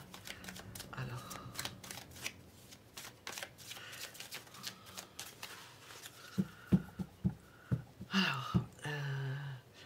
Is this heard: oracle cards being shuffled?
yes